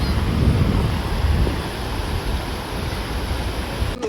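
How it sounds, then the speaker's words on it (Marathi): A small waterfall at an agro-tourism resort during heavy rain makes a constant broadband rushing roar, loud and close, with some wind buffeting the microphone. "बघू शकता एक छोटा धबधबा आहे"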